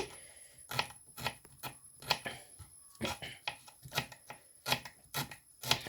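Brussels sprouts being chopped with a knife on a cutting board, a run of sharp, uneven chops close by with short pauses between bursts, with no talking.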